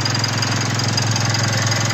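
A diesel engine idles steadily just after its fuel filter has been replaced, running smoothly with an even low rumble and no misses or stumbles throughout, close and continuous with no talk.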